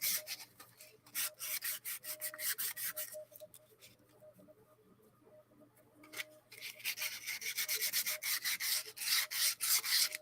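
Light sanding rod with 320 grit rubbing the edges of small ROKR orrery model parts in rapid back-and-forth strokes. Close and steady, it pauses briefly midway, then resumes in a busier stretch with no voices.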